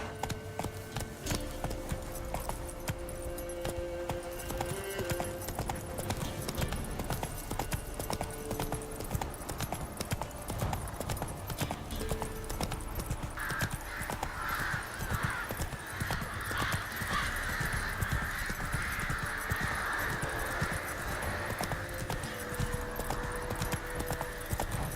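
A horse gallops in The Witcher 3, with fast continuous clip-clop of hooves close up and a brief whinny, under game music and ambient sound.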